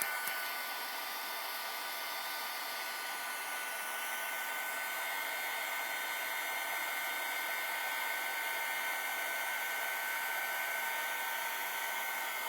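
A heat tool blows steadily to dry a scrapbook project, a continuous close whooshing hiss with an even tone that holds without pause throughout.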